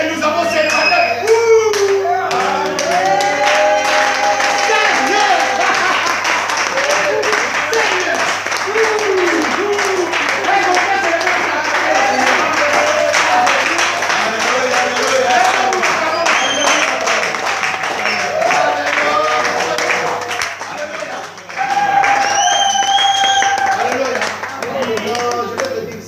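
A church congregation claps and applauds loudly and continuously for over twenty seconds, with cheering and raised voices mixed into the crowd noise and a short dip before the clapping picks up again.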